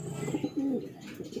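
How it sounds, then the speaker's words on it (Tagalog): Racing pigeons coo at a loft during a derby, with a few soft throaty coos and faint chirps close by, alone with no talk. "Second bird natin si BL hen"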